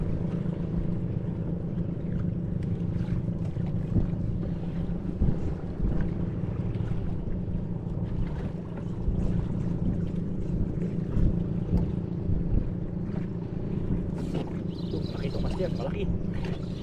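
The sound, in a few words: strong wind on a boat at sea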